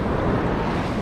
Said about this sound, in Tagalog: Lakas ang alon.